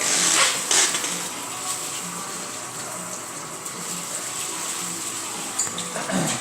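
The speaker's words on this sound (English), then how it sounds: "So we're filling the fermenter now." Liquid gushing into a beer fermenter during a brew of New England style pale ale, a steady close rush of pouring water with a pump-like hum underneath and no talk.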